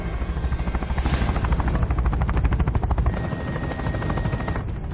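A helicopter thunders close by, its rotor blades beating in a rapid, steady chop over a loud roaring whine.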